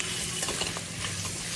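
Chicken marinated with salt, turmeric and oil sizzles in a pan over a high flame while being stirred, a close, steady hiss with soft scraping stirs and no voices.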